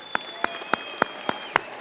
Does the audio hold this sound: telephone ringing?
no